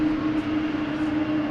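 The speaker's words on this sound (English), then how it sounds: "That was a loud plane." A loud airplane at Boston Logan Airport gives a steady, close jet roar with a low hum running underneath, heard alone without talking.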